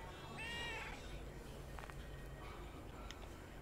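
A five-day-old kitten with eyes still closed gives a thin, high meow early on, followed by a couple of fainter squeaks over a steady background hiss.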